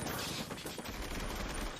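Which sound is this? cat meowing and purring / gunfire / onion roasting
gunfire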